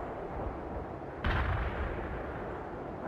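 A single sharp rocket launch from infantry in the war game World in Conflict bursts out suddenly and loudly over a constant roar of battle noise, then fades into the din.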